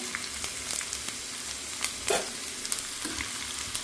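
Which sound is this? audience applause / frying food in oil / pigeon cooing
frying food in oil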